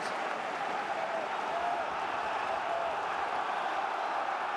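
Football crowd at an Ipswich Town home match in the Championship gives a steady, broad roar of applause and cheering, sustained and fairly distant throughout, with no clear voices standing out.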